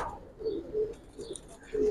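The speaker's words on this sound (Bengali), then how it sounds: "সিলভার প্যাটার্নের কবুতর" Silver-pattern pigeons coo softly in short, repeated low notes, a few brief calls close by in a quiet setting.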